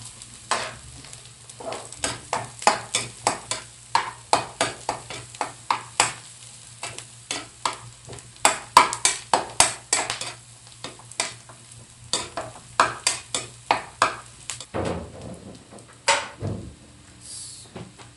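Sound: garlic sautéing in a pan for pansit canton

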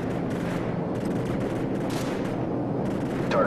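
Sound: AC-130 gunfire in Call of Duty 4 video game

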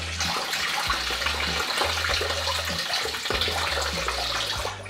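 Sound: water draining from a Volvo 740 hose into a bucket

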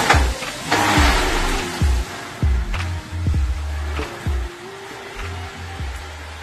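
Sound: EVISU GT3 race car engine starting and revving

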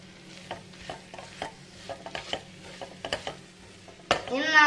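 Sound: coriander and pepper powder stirred into frying masala

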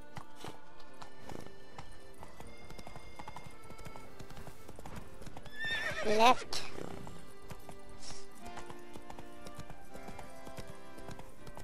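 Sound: horse hooves and neighing, from video game The Witcher 3

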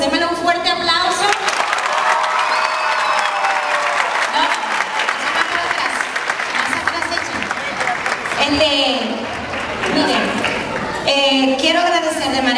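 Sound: applause

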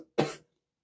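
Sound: cough

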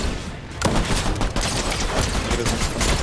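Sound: sniper rifle shots in the video game Fortnite

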